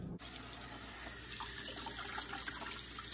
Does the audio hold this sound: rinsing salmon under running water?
yes